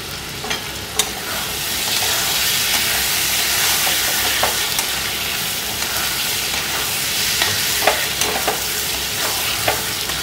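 Potatoes fry and get stirred with spices in a pan, a steady close sizzle with scraping stir strokes throughout, no voices.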